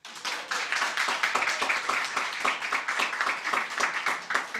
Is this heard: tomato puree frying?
no